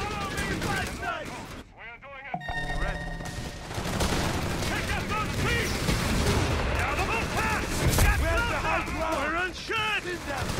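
Gunfire crackles through a Company of Heroes 3 battle, with bursts of rifle and machine-gun shots and heavier booms beneath shouted soldier voices, building to a dense, loud barrage.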